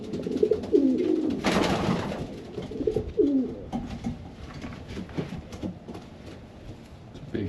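Racing pigeons in a loft give repeated soft, throaty coos in bursts, with people talking quietly nearby and a brief louder rustle partway through.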